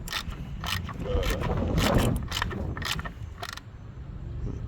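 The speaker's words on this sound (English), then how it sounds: "15 millimeter remove the master cylinder bolts" Ratchet wrench with a 15 mm socket working master cylinder bolts loose on a Box Chevy Caprice, a steady run of close mechanical clicking and scraping for several seconds, with some talk in the background.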